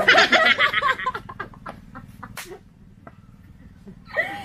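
Chickens being fed, raised as gamefowl, clucking and pecking up close, busy at first and then sparser, with a few sharp clucks near the end.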